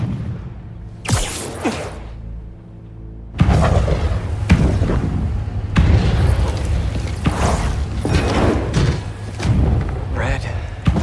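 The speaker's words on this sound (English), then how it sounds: "Fireworks. We gotta go." Fireworks bursting in the video game Marvel's Spider-Man 2, a string of booming thumps and whooshes over a steady low game rumble, with characters talking amid the blasts.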